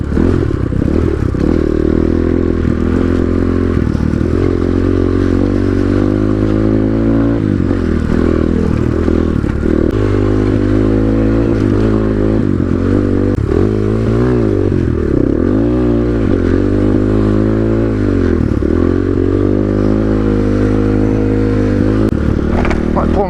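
A GPX Moto FSE 250e dirt bike ridden off-road over whoops at Five Mile Pass, a loud continuous engine drone rising and falling with throttle, with rattling and wind buffeting throughout.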